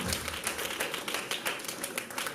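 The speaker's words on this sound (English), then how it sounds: "Round of applause for Mrs. Stella." Dense applause from an audience at a parents' summit in Port Harcourt, a continuous steady patter of many hands clapping at moderate distance, with no talk over it.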